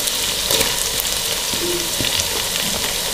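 Chopped tomato drops into a frying mutton kofta curry masala, giving a steady, close sizzle with faint stirring scrapes and no talk.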